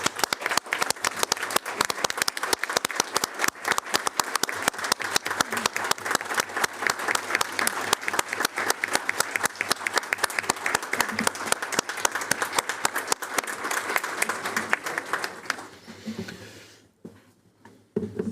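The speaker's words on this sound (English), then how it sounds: "Let's give them another round of applause." A crowd claps in applause at a board of education business meeting, congratulating people on new positions, sustained and fairly loud for about fifteen seconds before fading out.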